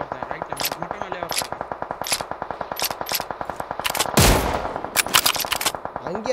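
Rapid automatic gunfire in a video game, a fast steady stream of shots with one heavier blast near the end, while players talk over it.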